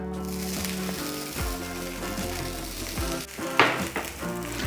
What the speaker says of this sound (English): so we're gonna put a little oil down here. Spread it out a little bit. And then put our hash browns down.